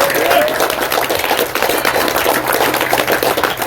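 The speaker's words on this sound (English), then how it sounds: "let's give a big round of applause to JMAC Customs for coming out" An outdoor crowd claps for a custom gunsmith vendor at an AK rifle shooting event, a brisk, fairly close patter of applause with a low hum and some voices mixed in.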